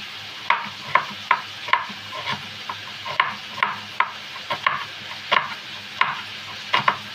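Onions sizzle steadily in a pan while a utensil stirs them, with regular scraping strokes about every half second over a constant close frying hiss.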